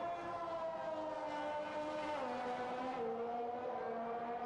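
On a flying lap of Zandvoort in the F1 2021 game, Leclerc's Formula 1 car wails with a high, continuous engine note that climbs and drops through gear changes, heard from onboard with no talk.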